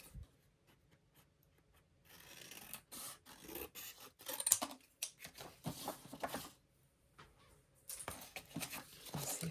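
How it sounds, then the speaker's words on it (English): Scissors trimming a paper page for junk journal art, with soft scraping, rubbing and snipping in quiet irregular bursts close up, separated by short pauses of near silence. "so I'm going to have to trim this down"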